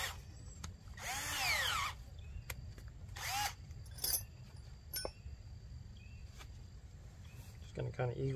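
A power drill with a dull bit, used while fitting an ATV winch fairlead, gives two short whining bursts with the pitch dropping under load, close by, followed by clicks and handling noise over a low outdoor rumble.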